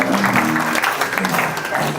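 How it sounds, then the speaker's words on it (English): An audience claps together briefly at a talk, a dense, close burst of hand claps that stays steady for a couple of seconds. "Give yourself a clap."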